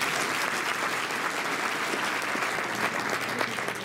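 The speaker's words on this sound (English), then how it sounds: "How about a round of applause?" Sustained applause from a conference audience after a keynote at an economic policy institute conference, a dense, even wash of many hands clapping at moderate distance for several seconds.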